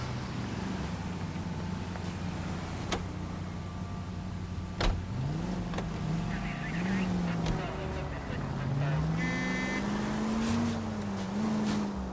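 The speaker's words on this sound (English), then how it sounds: "Way to kick off the drive in high spirits, Rusty." A vintage car drives steadily in L.A. Noire, with a constant engine drone and a couple of shifts in pitch as it accelerates. Sharp clicks and a faint tonal sound come through over it.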